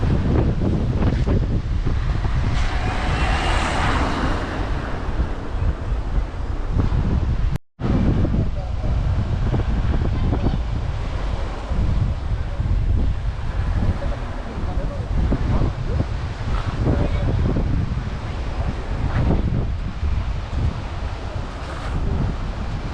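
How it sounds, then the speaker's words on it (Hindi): Cool wind blows at a mountain spot along the road trip from Delhi to Gangotri: loud, continuous gusty rush buffeting the microphone, with a brief dropout partway through. "और इतनी प्यारी ठंडी हवा चल रही है कि मज़ा ही आ गया"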